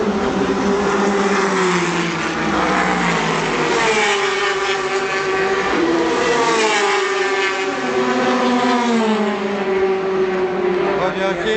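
Race cars at the 2013 24 Hours of Le Mans, including a Porsche, with engines droning and swelling continuously as they pass, a steady loud roar with shifting pitch, heard under commentary.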